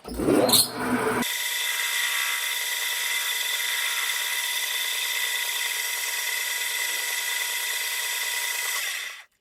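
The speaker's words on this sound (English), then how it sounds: "I'm just gonna use my lathe to take off this little peen section." A metal lathe turns off a peened section of brass stock, a brief rough cutting burst giving way to a steady, close, high-pitched whine and hiss of spinning machinery that runs evenly for several seconds before stopping abruptly.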